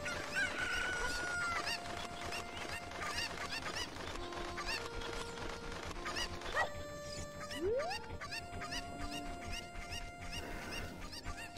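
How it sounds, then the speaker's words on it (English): Chickens (cuccos) clucking and honking in Kakariko Village in the game Ocarina of Time Master Quest, layered over steady game music and effects, with several sharp squawks and a rising call near the middle. "So there's probably one more chicken hanging around town."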